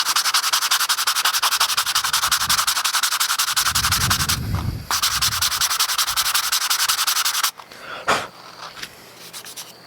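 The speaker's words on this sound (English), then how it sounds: "This is just a little foam sanding block." Rapid rhythmic scratchy rubbing of a foam sanding block on carved wood, close and loud, pausing briefly a few times before stopping near the end.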